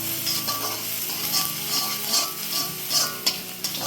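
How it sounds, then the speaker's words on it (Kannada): Spicy noodles fry and get stirred in a pan, giving a steady close sizzle broken by scraping, clinking stir strokes that grow louder toward the end, with no talking. "ನೋಡಿ ಎಷ್ಟು ಚೆನ್ನಾಗಿ ಫ್ರೈ ಆಗ್ತದೆ."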